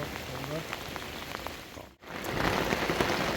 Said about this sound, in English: the rain's messing with my camera